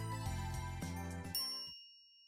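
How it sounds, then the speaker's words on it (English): An elevator arrival chime from the video game Steins;Gate, a bright ringing tone with sustained harmonic overtones that rings clearly for about a second and a half, then cuts to silence with a faint high ring fading out. "A chime signals our arrival on the 5th floor"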